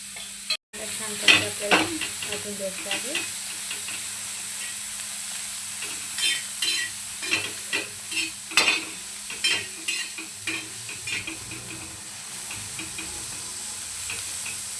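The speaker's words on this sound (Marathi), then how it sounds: "अशा पद्धतीने बघा आपला छान असा कांदा आपला काळसर भाजून घ्यायचा" Onion roasting on a hot tawa for a spicy village-style mutton kasturi methi masala, sizzling steadily while a spatula scrapes and stirs in repeated short strokes, close and fairly loud with no voices.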